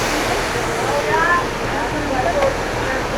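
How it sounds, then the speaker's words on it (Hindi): Rushing water tumbling down on the Kedarnath trek in fog, a steady broadband roar with no breaks, loud and close throughout. "अब ये नीचे गिर रहा पानी। आवाज़ सुनो"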